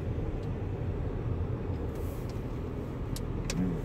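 Road traffic near Wasaga Beach and Thornbury, a steady broad rumble of passing cars from inside a moving vehicle, with a few faint clicks on top.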